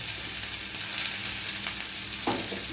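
Onion and garlic frying in oil for North Karnataka-style kadle usli, a steady, dense sizzle with a faint stirring scrape near the end and no talk.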